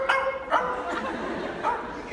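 A person mimics a dog with their voice, giving four short, yappy bark-like yelps spaced irregularly over about two seconds, close and fairly loud with faint room noise between them.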